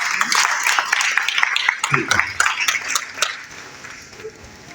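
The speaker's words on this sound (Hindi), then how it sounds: "जी को जोरदार तालियों से स्वागत किया जाए।" Lively applause from a crowd at a community activists' gathering in South Delhi, dense overlapping claps that start strong and gradually thin out, with a murmur of voices underneath.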